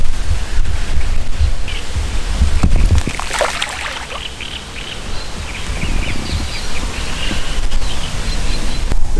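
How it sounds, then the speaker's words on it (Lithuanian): Strong wind blows across a lake in Lithuania, producing a loud, continuous roaring gust noise close to the microphone with faint water lapping and occasional bird calls beneath. "Belia koks vėjas."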